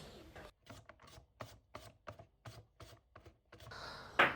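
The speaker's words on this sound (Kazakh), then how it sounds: "Редисканы да қолымызбен турасақ болады, немесе осындай үкіштің көмегімен де турап алсақ болады" Steady, evenly spaced slicing strokes cut through vegetables, about a dozen crisp chops at a regular rhythm, close and quiet, ending with a sharper scrape.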